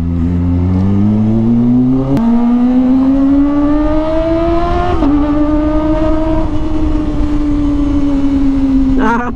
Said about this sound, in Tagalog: Iba yung tunog ng Kawasaki ng inline 4 eh.